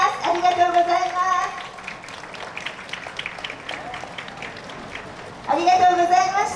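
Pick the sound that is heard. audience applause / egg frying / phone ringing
audience applause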